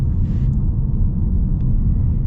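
Low, steady rumble of a Toyota Camry TRD engine running, heard from inside the car with a constant droning hum.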